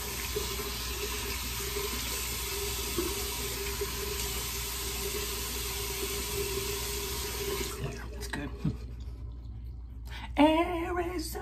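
Water runs steadily from a tap into a sink, a continuous broadband rush that carries on for about eight seconds, then stops, leaving a few faint clinks and handling sounds.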